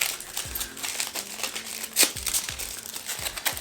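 Aluminium foil crumpled by hand for a DIY mirror craft, a close, crisp crackling that comes in bursts with one sharp crinkle midway, alone without speech.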